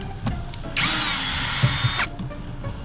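A cordless power drill whirs for just over a second backing screws out of Suzuki APV door cards, loud and close, bracketed by quieter clicks and handling noise with no speech.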